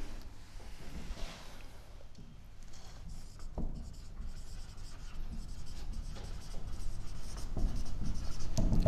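Marker or chalk strokes on a classroom board during an 11th-grade physics lecture, soft scratchy scrapes and taps in irregular bursts, fairly close, with a faint low room murmur and no clear talk.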